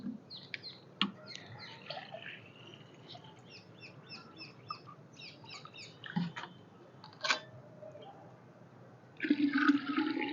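Water pours into a container to mix a mustard cake fertilizer solution, a steady low splashing stream that swells louder at the end, with birds chirping repeatedly nearby outdoors.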